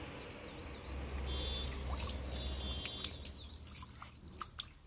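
Water is poured into a glass outdoors, a trickling, gurgling flow that rises and then tapers into scattered drips and small splashes, faint against an open-air background.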